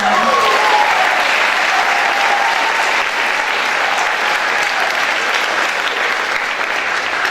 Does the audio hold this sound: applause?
yes